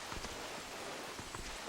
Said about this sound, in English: first we need to stop the rain